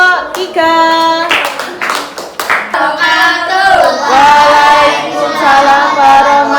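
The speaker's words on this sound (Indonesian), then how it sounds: "Beri tepuk tangan untuk kelompok 3." Several sharp hand claps ring out amid children's voices in a school classroom, with tonal chanting or calling overlapping; loud and close in a lively room.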